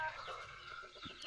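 Chickens kept on a seller's farm cluck and call nearby, short overlapping fowl sounds against a quiet yard.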